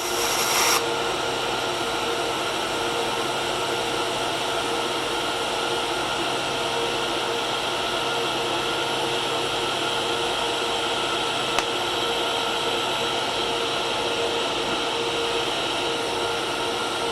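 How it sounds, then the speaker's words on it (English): TIG welding on straight DC at 80 amps without filler, a steady unbroken hiss that starts abruptly and holds evenly throughout, with no voices. "A straightforward DC weld, no filler, at 80 amps"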